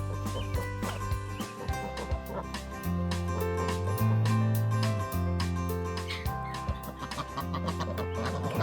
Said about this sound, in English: Guess we'll put the big chickens up first tonight.